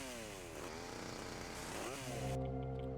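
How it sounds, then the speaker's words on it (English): A chainsaw in Grand Theft Auto: Vice City revs with a buzzing engine whine that rises and falls in pitch, then settles into a steady drone, with no talking. "Using the chainsaw effectively."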